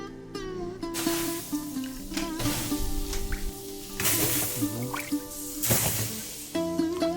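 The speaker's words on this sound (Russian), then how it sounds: "Я спрыскиваю его стенки водой." Water sprinkled onto the hot inner walls of a tandoor oven, heard as several short, sharp hissing bursts spaced a second or two apart over a steady tonal background.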